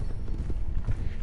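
A horse's hooves clip-clop at an easy walk in Red Dead Redemption 2 Online, a soft, steady patter of thuds with a faint creak of tack, fairly quiet and continuous with no talking.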